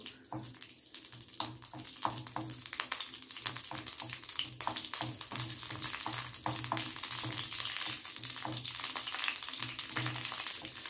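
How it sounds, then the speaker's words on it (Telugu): Green chillies with cinnamon and cloves fry lightly in a pan, giving a steady low sizzle and crackle with occasional stirring clicks and scrapes throughout, no voices. "సో నేను పచ్చిమిర్చి వేయించుకుంటున్నాను లైట్గా వేయించుకుంటున్నాను"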